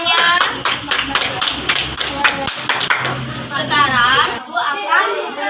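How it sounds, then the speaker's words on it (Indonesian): Children in a classroom clap together in a quick run of sharp, close claps, then voices and chatter take over as the clapping fades. "Tepuk tangan untuk semuanya."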